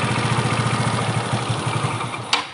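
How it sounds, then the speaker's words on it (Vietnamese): A Yamaha Nouvo 5 scooter engine with a sensor unplugged fires up and runs in a rough, rapid low putter for a couple of seconds, close and fairly loud, with a brief sharp click near the end. "Mình giật ra thử để xem coi nó có nổ máy hay không."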